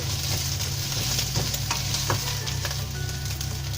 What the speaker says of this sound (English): We are going to cook this until the onions become soft and the raw smell of ginger garlic has gone.